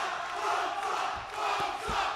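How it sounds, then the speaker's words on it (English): An arena crowd at an MMA fight in an ice arena chants together in a loud, rolling roar that swells and dips, with a few dull thuds underneath. "Chants of bonesaw echoing through the Mentor Ice Arena."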